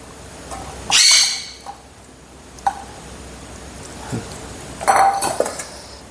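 Dry dog food is tipped into a dog's bowl, giving a short clattering rattle, a few faint clinks, then a second burst of pellets hitting the dish.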